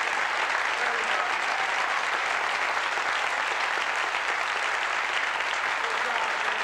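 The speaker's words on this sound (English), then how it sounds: "let's give us a round of applause" Steady, dense applause from an audience in a hall at a 1989 high school excellence ceremony honors faculty, advisors and coaches. The clapping is continuous and even throughout.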